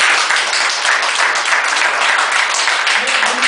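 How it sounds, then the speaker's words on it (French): Audience applause at a lecture-style event, a dense steady wash of clapping filling the whole stretch at close range and high level, with some voices mixed in. "Applaudissons pour ça."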